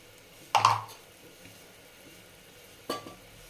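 Ginger garlic paste with turmeric, chili powder and coriander powder hitting a hot pan: a loud sizzling burst near the start that fades, then a second shorter sizzle or stir near the end, with quiet between.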